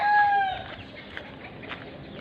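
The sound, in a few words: chickens clucking and crowing on a farm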